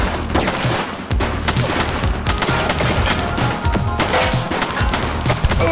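Sustained, dense gunfire from a shootout in The Precinct, loud and continuous with repeated overlapping shots and no talking.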